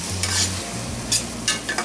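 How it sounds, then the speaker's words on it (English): Chilli paneer mix sizzles in a pan, a steady frying hiss with sharper bursts as it is stirred, close and fairly loud, no voices. "the mix is sizzling nicely"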